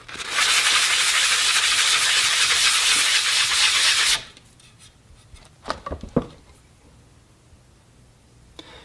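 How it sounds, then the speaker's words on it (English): Steady, loud rasping scrape of a file cutting hardened epoxy on a wooden rifle stock for about four seconds, then it stops, leaving quiet room noise and a few small knocks. "I generally like to cut that quickly with the file"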